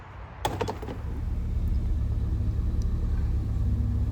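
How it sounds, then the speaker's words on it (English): A 1983 Alfa Romeo Spider Veloce idling after an oxygen sensor replacement. A sharp clack opens the clip, then a steady low engine rumble settles and holds at an even level. "with a more leaned out fuel mixture, you can see the idle is much more stable"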